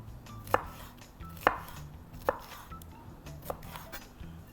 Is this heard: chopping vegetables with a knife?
yes